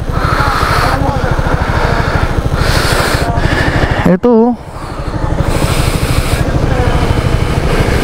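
Yamaha XMAX 300 scooter engine running steadily and loud throughout on a slippery river ride, with a sharp drop and scraping moment as the bike tips over, while riders talk over the engine noise.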